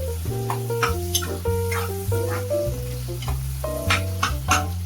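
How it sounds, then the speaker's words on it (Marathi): Tomatoes sauté in a pan over a high flame for a Konkani-style cashew curry, a soft, steady sizzle sitting beneath a prominent melodic music track. "टोमॅटो थोडासा परतायचा"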